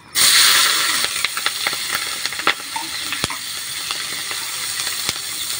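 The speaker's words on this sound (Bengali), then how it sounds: "কড়াইয়ের মধ্যে তেল দিছি আর এখন দিয়ে দিচ্ছি কাঁচা পত্তা আর পেঁয়াজ" Green chillies and onion fry in hot oil in a wok, giving a loud steady sizzle with sharp crackles and pops and occasional stirring scrapes, no voices.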